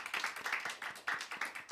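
A church congregation claps for an engaged couple at a Sunday service, a steady, even run of handclaps from a small crowd, moderately loud and without voices.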